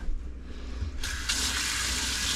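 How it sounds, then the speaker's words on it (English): A kitchen faucet turns on partway through and runs steadily for washing hands while cooking, a close, constant gush of tap water into a sink. "Now I'm gonna have to wash my hands."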